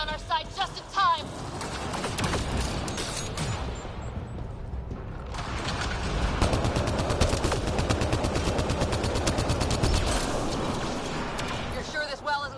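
Mass Effect Andromeda turret fire, a steady rapid stream of mechanical shots that runs for the length, loud and close, with a rising pulse in the second half and game voices talking over it.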